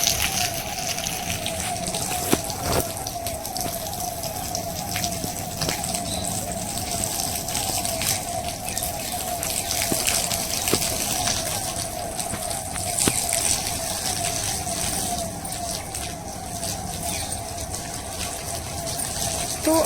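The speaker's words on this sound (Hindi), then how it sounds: "इधर देखिए, यहाँ पे टंकी से पानी गिर रहा है।" Steady splashing of water falling from a tank without a break, a continuous gushing wash with a faint hum underneath.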